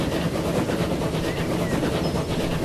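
The Nostalgie Express steam train in Transport Fever 2, a steady rolling rumble with rhythmic clattering wheels, running close and fairly loud.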